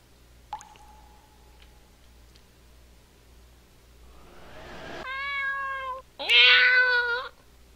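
A cat meows twice, clear and close, inside an RPG puzzle game, preceded by a soft wet drip and squish sound.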